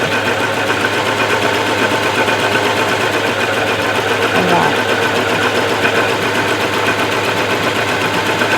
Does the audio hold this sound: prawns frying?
no